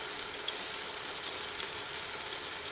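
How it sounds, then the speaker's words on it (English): A pot of chicken for tortilla soup boils steadily, a faint, even bubbling hiss with no talking. "my chicken is boiling, and that's what we want"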